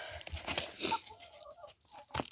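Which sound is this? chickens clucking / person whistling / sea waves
chickens clucking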